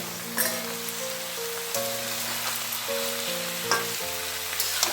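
Moong dal frying together with vegetables in a pan: a steady, moderately loud sizzle with occasional stirring scrapes, under background music.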